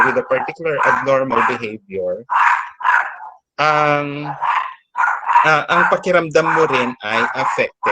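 A dog barks a few times close by, short yips breaking up steady conversation between people.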